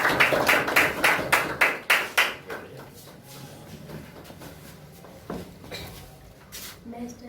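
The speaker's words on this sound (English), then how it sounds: "Let's welcome him with a big round of applause." Students in a classroom clap to welcome a presenter: a run of sharp, fairly loud claps over the first couple of seconds, then thinning into scattered taps and quiet room noise with some talking.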